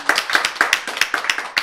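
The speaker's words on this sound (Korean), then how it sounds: "박수" A church congregation bursts into rhythmic clapping during a Korean sermon, a dozen or so sharp, close claps in a steady quick beat with no talk over them.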